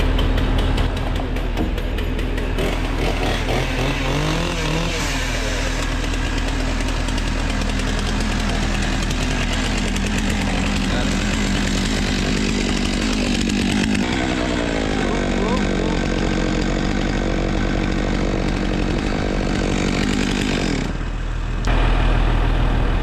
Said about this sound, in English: Oh, replacement chipper is back in action.